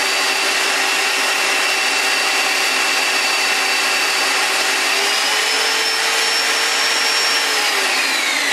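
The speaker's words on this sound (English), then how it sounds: "So as I pull the trigger slowly, it's not gonna rev up slowly." A Black & Decker variable speed car buffer runs at full speed, a loud steady whine that climbs slightly in pitch partway through and holds alone without talk.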